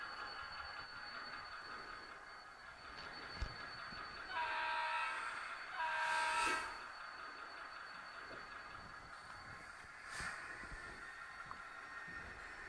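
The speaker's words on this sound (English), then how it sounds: "you'll hear the rail squeal and clank" A model train locomotive runs around a layout at a railroad hobby show with a steady mechanical hum, punctuated by two sustained high rail squeals and a few metallic clanks, heard fairly close.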